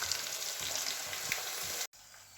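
Oil sizzles steadily in a pan before a batch of mustard pabda fish goes in, a dense continuous crackle that cuts off abruptly near the end, leaving a brief quieter hiss.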